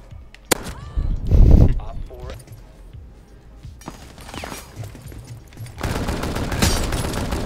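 Gunfire in the Rainbow Six Siege video game comes as sharp single shots and rapid bursts at varying distances, with impacts and debris, while a player talks over the action.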